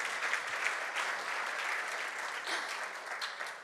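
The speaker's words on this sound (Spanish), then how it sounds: "Podéis aplaudir si queréis" Sustained applause from a conference audience at a panel dialogue on stakeholder groups and alliances, a dense, even wash of clapping that holds steady from start to finish with no voices over it.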